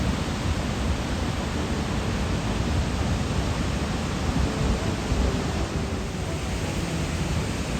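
Loud, constant broadband roar of rushing water from canyon-wall waterfalls and flooded streams after a huge rainstorm, steady throughout with no voices.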